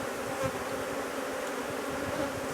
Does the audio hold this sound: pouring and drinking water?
no